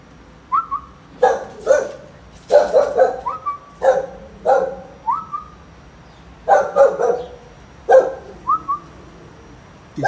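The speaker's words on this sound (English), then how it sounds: "This dog, yeah, is crazy" Dog barks in short bursts and clusters, loud and close, with brief high whistle-like yelps between them and no talk.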